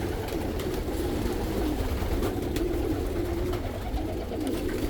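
Hungarian and Dutch homing pigeons coo together in a large loft, a dense, steady chorus of overlapping low coos with faint wing and body shuffles, close and continuous throughout.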